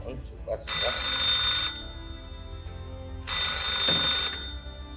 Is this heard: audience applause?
no